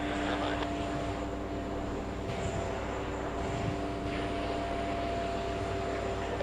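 Airbus A340 airliner at JFK airport, its engines a steady broad roar close by and continuous throughout, with a faint voice in the background.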